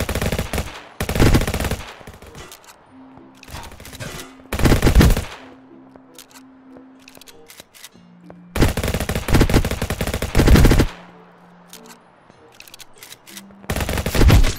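Automatic weapon fire in the GTA-style mobile game Vice Online, coming in several long, loud bursts separated by short lulls with quieter background sounds.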